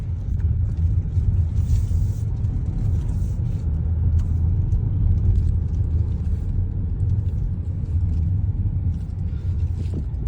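A 2023 BYD Yuan Plus electric car drives in comfort eco mode, giving a steady low road rumble and tyre noise inside the cabin that stays even and continuous throughout.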